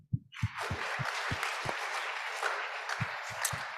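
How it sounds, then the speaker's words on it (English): Community day audience applauds youth project mentors, a sustained wash of clapping with a few heavier nearby thumps breaking through at intervals. "a huge round of applause to the mentors who participated in this project as well"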